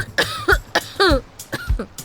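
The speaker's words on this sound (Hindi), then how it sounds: "खांस क्यों रही हो?" A woman coughs in short repeated bursts, with several distinct coughs and throat-clearing sounds spread across a couple of seconds. She is close and fairly loud, and no one is talking.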